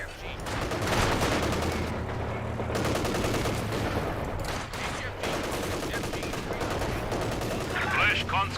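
Machine guns rattle on a Company of Heroes 2 battlefield in long, rapid bursts. Other gunfire and battle noise crowd in close and loud, almost without pause.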